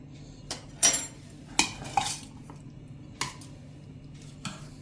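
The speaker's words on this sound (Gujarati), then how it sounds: "આ રીતે આપણે આવી રીતે હોલવાળું વાસણ ચમચો લઈને અને આ રીતે આપણે નિતારીને નાખવાનું છે" A perforated metal ladle clinks and scrapes against a pot in a few sharp, separate knocks while straining dosa batter, with soft wet handling sounds between them.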